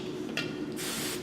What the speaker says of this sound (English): teasing and just spraying those roots